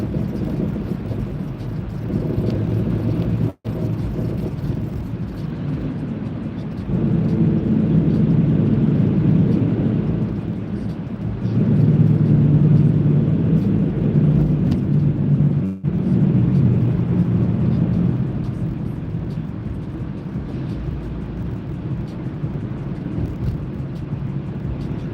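Cars pass steadily in traffic lanes as a continuous broad road rumble that swells and fades as vehicles go by, fairly loud and close, with two abrupt brief dropouts and no talking.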